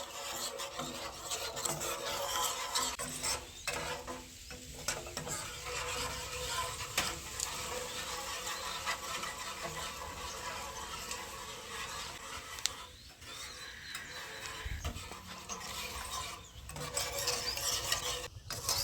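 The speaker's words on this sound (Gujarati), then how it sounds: "સતત આપણે આવી રીતે હલાવતું જ રહેવાનું" A flour mixture for orange barfi is stirred continuously in a pan on the stove. The scraping and rasping of the spoon against the pan is close and steady, with light sizzling underneath and no talking.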